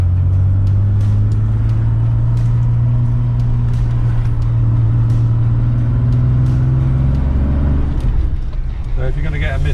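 An Aston Martin DB5 engine drones steadily under load climbing a hill, low and loud, its pitch shifting slightly before easing off near the end.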